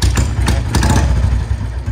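A Royal Enfield Bullet motorcycle engine runs loud and close after a kick-start, with a heavy low thumping idle, mechanical clatter and a few sharp bursts.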